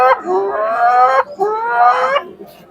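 A man mimics an angry hen guarding her freshly laid egg with two loud, drawn-out, nasal squawking calls, close up and alone, separated by a brief gap.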